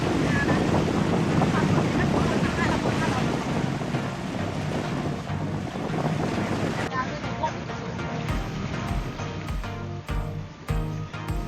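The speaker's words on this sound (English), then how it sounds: "The ferry does make quite the noise." A ferry crossing open sea, its engine drone buried under loud wind buffeting the microphone, the roar steady throughout before the wind drops and the low engine pulses come through more clearly near the end.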